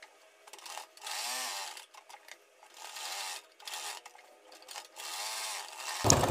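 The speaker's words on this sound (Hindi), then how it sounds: "तीन तरफ हम अपनी पॉकेट की सिलाई लगा देंगे" A sewing machine stitching a pocket onto a kurti, running in several bursts of rapid mechanical whirring and clatter separated by short pauses, close and clear, ending with a brief click.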